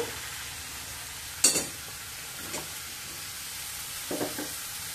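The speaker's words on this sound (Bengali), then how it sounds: "এবার 2 মিনিট আদাটা কষিয়ে নিয়ে এর মধ্যে চাল কুমড়ো দিয়ে দেব।" Ginger and ash gourd sauté in a pan with a low, constant sizzle, broken by a few clattering stirs of a spoon against the pan.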